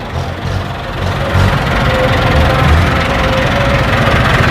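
A small decorated tractor's engine runs at a steady idle, close and loud, with an even low rumble and knocking throb continuing throughout, no voices.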